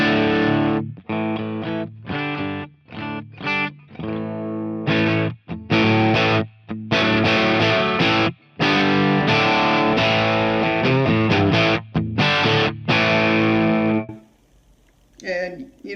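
An Eastwood Classic AC semi-hollow, chambered electric guitar plays through distortion, with chopped rhythmic chords and bursts that turn into sustained, thick, saturated strums before fading to near silence at the end.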